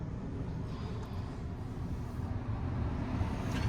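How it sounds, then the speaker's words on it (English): A Tesla's cabin climate fan running at its maximum setting gives a steady, low, even whooshing rush inside the car, fairly quiet and constant throughout, with nobody speaking. "you hear the fan kick up to max"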